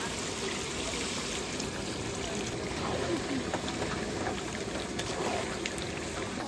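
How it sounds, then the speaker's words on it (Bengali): Water pours into a pot of braised mutton in a steady, close trickle that rushes softly through the whole stretch, with some faint background noise and no speech. "এইবার দেবো জল।"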